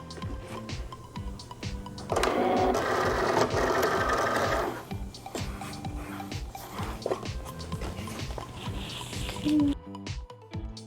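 A Cricut cutting machine draws in its mat with a steady motorized whir lasting a couple of seconds, surrounded by small clicks and handling noises at close range.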